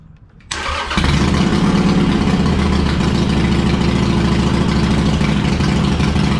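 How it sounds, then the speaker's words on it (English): A Harley-Davidson Sportster motorcycle cranks briefly and fires up, then settles into a loud, steady, lumpy idle close by. "So now I'm gonna start the bike up."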